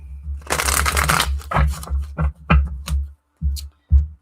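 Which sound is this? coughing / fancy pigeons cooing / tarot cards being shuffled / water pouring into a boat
tarot cards being shuffled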